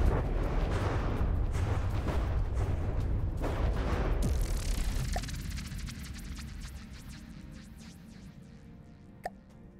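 Small cannons firing in the naval combat game From the Depths, a dense rumbling barrage of heavy booms and blasts that thins out into a quieter stretch with distant pops and a single sharp report near the end.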